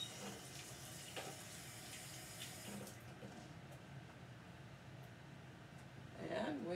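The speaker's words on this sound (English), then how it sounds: "So I'm going to rinse my hands off quick." Tap water runs steadily into a sink while hands are rinsed under it, a continuous close rush with a brief louder splash near the end.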